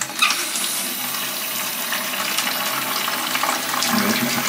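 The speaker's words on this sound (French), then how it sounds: "Donc là on va venir mettre en eau tranquillement," Water rushes steadily into a newly replaced toilet tank, a close, continuous hiss and splash with no talking.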